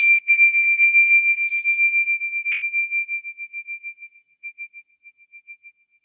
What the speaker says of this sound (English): just chime the little chimes